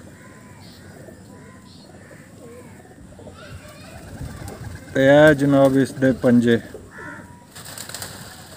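Pigeons coo softly in low, repeated murmurs, mostly faint in the background, while someone talks nearby and a burst of louder voice cuts in midway.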